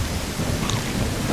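Rain hisses steadily in the video game Bigfoot, with a low rumbling undertone like distant thunder, a brief continuous wash of moderate loudness.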